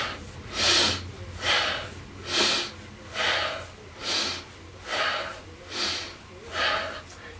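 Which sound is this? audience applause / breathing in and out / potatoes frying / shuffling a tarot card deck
breathing in and out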